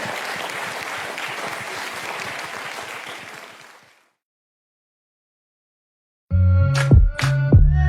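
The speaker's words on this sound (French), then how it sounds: "Ça s'applaudit s'il vous plaît" Loud applause from a crowd for several seconds, fading away into silence before music begins.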